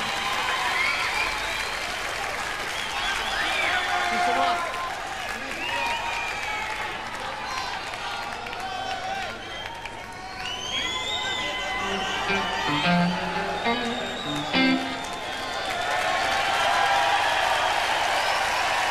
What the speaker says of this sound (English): they're coming back on stage now to absolute tumultuous applause